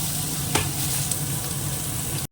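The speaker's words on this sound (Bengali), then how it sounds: "এদিকে কড়াইতে তেল দিয়েছি আগে এটা একটু ভেজে নেবো" Squeezed-dry mushrooms fry in hot oil in a wok, a steady close sizzle hissing throughout with a couple of brief clinks.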